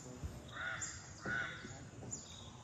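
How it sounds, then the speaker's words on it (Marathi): Birds calling in a quiet coastal mangrove forest in Konkan, Maharashtra, with several harsh crow-like caws spaced apart, moderately near, over a faint low background. "आणि बाकी कसलोच आवाज येणार नाही एकदम शांत फक्त पक्ष्यांचं किलबिलाट."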